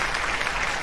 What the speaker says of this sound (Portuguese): vou aplaudir quem clicou e mandou um pix para mim